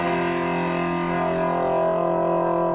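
Electric guitar pushed through a distortion pedal that overloads and overdrives the signal, producing a thick, gritty sustained tone with rich ringing harmonics that hold steadily and loudly throughout.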